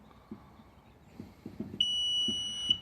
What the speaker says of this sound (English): hold it down until it stops beeping